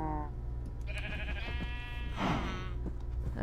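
Sheep in Minecraft (Sky Factory 2 modpack) bleat twice, close and fairly clear, with a quieter game background humming beneath and no talking.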